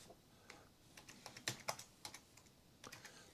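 Rapid clicking of a computer keyboard as someone types code, soft and close, in short irregular bursts with a few louder keystrokes.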